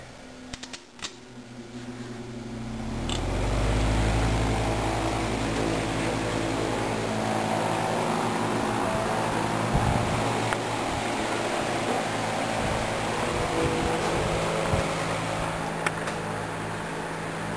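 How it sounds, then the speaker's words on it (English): Two electric fans, a Fresh'nd-aire and a Vortalex, whir up from a click into a loud, steady broadband rush with a low hum, running continuously at close range without any voices. "We're going to compare just how powerful these two fans really are."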